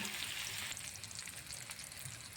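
A paratha with egg omelette fries gently in a pan, giving a faint, steady sizzling crackle with small scattered pops throughout.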